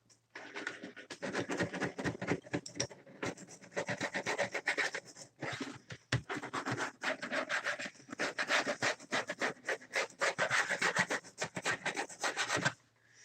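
A chisel scrapes at parts while a Creality Ender 5 3D printer is being assembled. Close, rhythmic rasping strokes come in bursts with short pauses between them.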